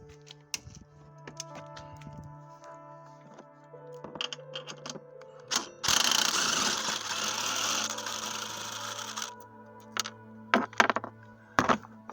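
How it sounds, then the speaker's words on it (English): A car handbrake lever is worked loose during removal, giving scattered close clicks and clunks around a burst of rough ratcheting mechanical noise lasting a few seconds, then more sharp knocks. "Second step, we take out the handbrake lever."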